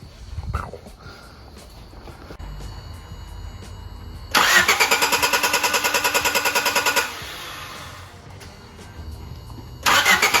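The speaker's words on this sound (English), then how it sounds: "I just put some fresh gas in it, and I guess we're gonna see if it'll start" A Honda Civic EG Si hatchback, a Frost White EH3 that had sat abandoned, cranks on fresh fuel: a steady rhythmic starter churn for several seconds, then a pause, then cranking resumes near the end, loud and close.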